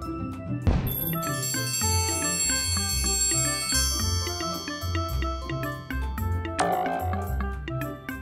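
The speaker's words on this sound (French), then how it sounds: "Tape sur la cloche." A toy bell struck with a toy hammer gives a bright ringing strike near the start, its tones lingering over cheerful children's music with repeated notes and another chime later on.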